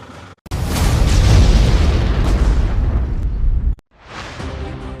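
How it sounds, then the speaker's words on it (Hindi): A missile strikes an oil depot in Kyiv with a loud, deep, booming blast. It rolls on as a heavy roar for about three seconds, breaks off suddenly, then returns as a fainter rumble. "मिसाइल धमाके के साथ टकराई और सब कुछ बर्बाद कर दिया"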